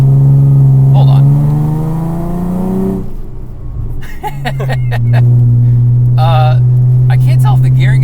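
A 400-horsepower Chrysler Crossfire track car accelerates hard, its engine note climbing steadily, dropping at a gear change, then rising again as a loud, droning whine, with brief voices breaking in.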